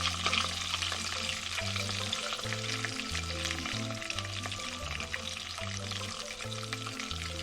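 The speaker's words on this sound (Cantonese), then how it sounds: "開始煎魚，用大火落少少油" Fish sizzles steadily in a little oil in a wok over high heat, a continuous close frying crackle that carries on evenly throughout, with no voices.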